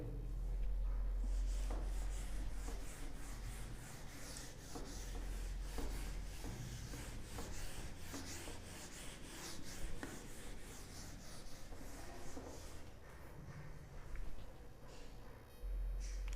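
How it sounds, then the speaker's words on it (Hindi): Writing being rubbed off a classroom board during a physics lesson, a sustained dry scrubbing with repeated strokes, close and moderately loud with no talk. "मैं रब कर दूँ ये"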